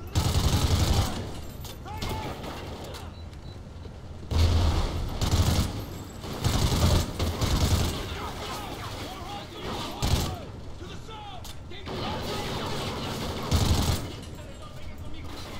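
Gunfire in the Call of Duty: Ghosts campaign comes in repeated loud automatic bursts separated by short lulls, with mechanical weapon clatter and a player talking over the combat.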